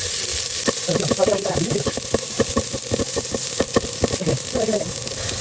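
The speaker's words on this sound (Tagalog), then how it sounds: "naglagay lang po ako ng kaunting mantika at magigisa muna po tayo ng bawang at sibuyas" Garlic, onion and ginger sautéing in a little oil, a loud steady sizzle with rapid crackling pops and a few quick scrapes of stirring throughout.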